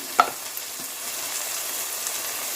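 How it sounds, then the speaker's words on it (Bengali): Turmeric, cumin, coriander and chilli powder frying in a pan, a soft steady sizzle with a sharp clatter from stirring at the start and a few lighter taps later, quiet and close. "সমস্ত মশলাগুলো এবার কষে নেব"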